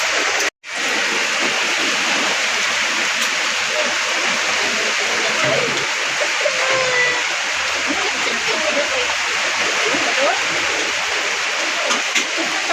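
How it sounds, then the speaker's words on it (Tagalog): Heavy rain pours down outdoors in a steady, dense hiss with splashing, continuous and loud from start to finish, with no voices. "Nibundak man ang kusog ang ulan."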